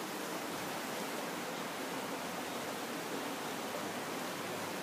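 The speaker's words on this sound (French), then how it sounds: "je vais vous montrer un petit peu la rivière derrière moi" A river runs steadily behind the speaker, giving a continuous broadband rush of flowing water with no voices over it across the whole stretch.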